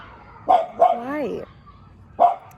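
Small Chihuahua dogs next door let out a few sharp, fairly close yaps, with a wavering whine between the first barks and a final bark after a pause.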